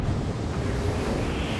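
Heavy stormy ocean with waves of six to seven meters, a dense continuous roar of surf and wind rushing past the microphone, loud and unbroken, with no voices.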